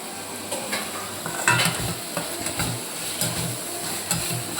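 Flattened rice (poha) sautés in a pan, a steady soft sizzle under frequent scraping and stirring strokes, close and moderately loud.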